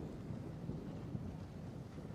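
Wind buffeting a microphone outdoors at sunset in Kona, Hawaii: a low, steady rumbling roar that stays fairly quiet and unbroken, with no other sounds.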